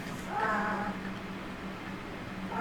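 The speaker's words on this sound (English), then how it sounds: "that background noise is literally just my cat trying to get into the window" A cat trying to get in at a window gives a drawn-out meow, fairly close and clear against a low background hum, then another short cry starts just before the end.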